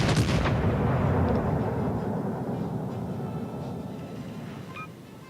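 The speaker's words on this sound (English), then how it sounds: "Concentrate fire on that enemy warship." Heavy warship guns fire in the naval video game World of Warships: Legends, a loud booming salvo at the start trailing off into a long rolling rumble that fades over several seconds, with no talk.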